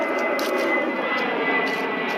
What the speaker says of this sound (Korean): 비행기가 지나가네요.